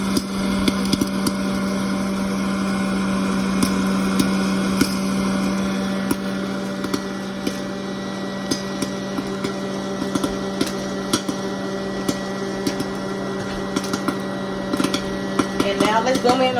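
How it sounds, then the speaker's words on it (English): A hot air popcorn popper drones with a steady motor hum while kernels pop in scattered sharp cracks that grow more frequent over time. "So let's zoom back in on the air popper. So you can see now that the popcorn is beginning to form"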